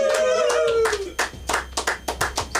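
Comedy club audience claps for comedian Jacob McGregor as a host's voice finishes the introduction, then distinct, fairly sparse claps ring out in an uneven rhythm from a small crowd.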